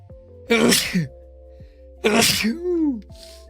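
Two loud, close human sneezes about a second and a half apart, each a sharp burst of breath, over a steady low electronic hum with a faint tonal beep between them.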